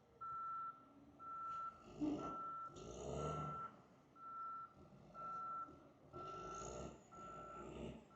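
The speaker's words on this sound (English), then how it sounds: "finally, some reverse sounds" A truck's reversing alarm beeps in a steady repeating pattern of about eight evenly spaced tones, fairly distant, over low engine rumble and a few rough bursts of noise.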